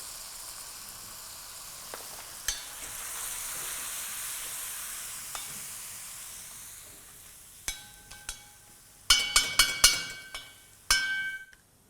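Hyderabadi potatoes sizzle quietly in a pan with turmeric and chili, a soft steady frying hiss, followed by a series of sharp metallic clinks and scrapes of a spoon stirring against the pan.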